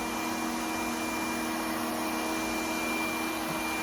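Lefant LS1 lidar robot vacuum running steadily indoors, a continuous even whir with a broadband hiss and faint tonal hum, close and moderately quiet, no talking.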